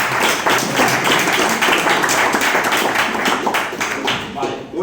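An audience at a talk on reusable software claps in a steady burst of overlapping hand claps lasting several seconds, thinning slightly toward the end.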